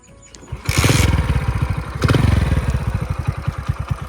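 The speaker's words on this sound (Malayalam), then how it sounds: "ഇതാണ് റിയൽ ആയിട്ടുള്ള വണ്ടീൻ്റെ ഒരു സൗണ്ട്. അത് ഞാൻ ജസ്റ്റ് കേൾപ്പിച്ചു തരാം" A Hero Splendor motorcycle engine, freshly repaired, fires up and settles into a loud, close, steady rhythmic idle with a throbbing exhaust beat, no voices.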